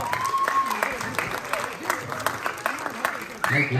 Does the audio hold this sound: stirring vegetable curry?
no